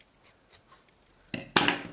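Scissors snip through satin ribbon while a hair bow is being made: two quick, close cuts near the end, the second louder and crisper, after a stretch of faint handling rustle.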